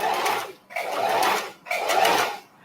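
A sewing machine stitches small fabric scraps together in three bursts, each about half a second to a second long, separated by short pauses. The whirring is close and clear, with no voices.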